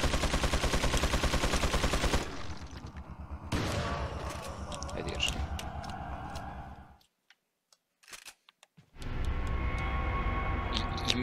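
Bursts of gunfire from the Resident Evil 4 video game in a sewer level: a fast rapid-fire run at the start, then more scattered shots, a brief near-silence, and another loud burst at the end.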